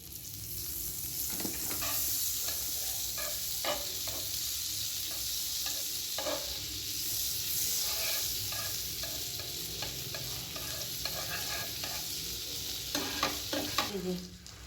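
Bread slices frying in butter on a pan over a gas flame, a steady bright sizzle throughout with scattered light clicks and scrapes of handling.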